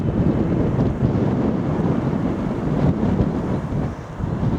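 Strong breeze buffets a microphone outdoors on a countryside circular walk around Royston, giving a steady, loud, low rumble with gusty swells and no speech.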